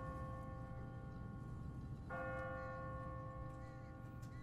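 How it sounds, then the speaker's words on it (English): A church bell rings in Telltale's The Walking Dead video game: one clear, resonant strike halfway through hangs and slowly decays over a low, constant ambient hum. "What kind of church bell goes off at 20 past the hour?"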